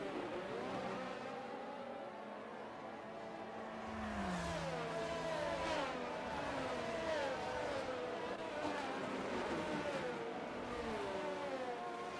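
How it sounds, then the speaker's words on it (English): Mercedes safety car from F1 22 racing on track, its engine revving and shifting through gears continuously at steady loudness with a background mix of other cars. "So obviously the Mercedes safety car, this is actually the new safety car for this year."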